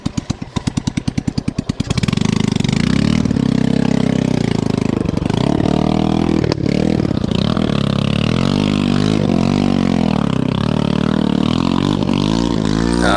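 Motocross motorcycle engines in the Lepar Utara forest idle with a rapid sputter, then rev up into a loud, steady drone that holds to the end, close by.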